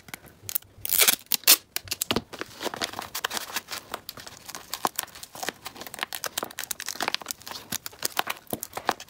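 Sticky tape being handled for a DIY paper squishy, with dense crinkling, sharp tearing and rustling bursts close by. The noise runs continuously, and one louder crackle comes near the start.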